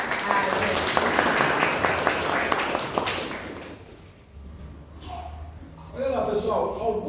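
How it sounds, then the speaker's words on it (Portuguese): An audience at a talk in a Spiritist centre claps in dense, steady applause that fades out midway, followed by quieter room noise and a voice starting to speak near the end. "palmas para ela"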